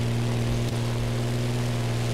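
Small propeller airplane in the racing game The Crew Motorfest, a steady droning engine hum with a strong low tonal buzz, continuous and close throughout.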